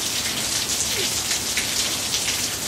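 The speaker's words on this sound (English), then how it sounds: "It is raining." Steady rain pattering on a hard surface, a dense continuous hiss of drops close by with no voices.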